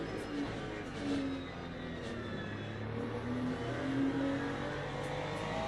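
Onboard engine of a Ferrari 296 GT3 in the racing game Le Mans Ultimate at Qatar, a steady buzzing drone with rising and falling revs through gear changes, fairly quiet and continuous.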